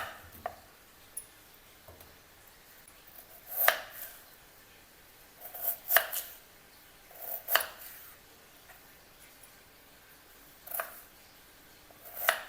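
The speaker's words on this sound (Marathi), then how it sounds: "बटाट्याला कापून घ्यायचं।" A knife cuts a peeled potato into small pieces on a board in a home kitchen, giving sharp, close thuds that come in irregular clusters with quiet gaps between them.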